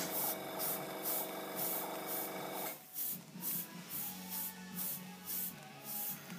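A green fire helmet is spray painted through a stencil: after a steady hum stops, short hissing bursts of spray repeat in an even rhythm, close and moderately loud, with no talking.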